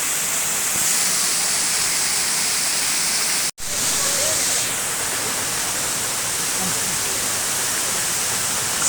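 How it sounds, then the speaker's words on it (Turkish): Os waterfall beside the Bayburt–Araklı highway roars as a loud, steady broadband rush of falling water, constant throughout with only a brief dropout partway through. "Bayburt Araklı Karayolu üzerindeki bir şelale."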